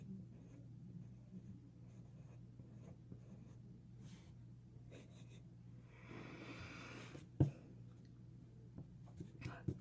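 Mechanical pencil drawing on paper gives a soft, steady scratching and rubbing at low level, swelling briefly into a denser scribble near the middle before one sharp tap.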